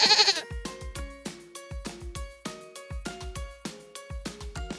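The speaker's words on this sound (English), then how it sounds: "Yup, it's a goat." A goat bleats in a rapid series of short, wavering cries, one after another with brief gaps, clear and close with no other sounds around it.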